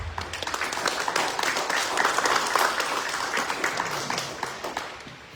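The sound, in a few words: audience applause welcoming the congressman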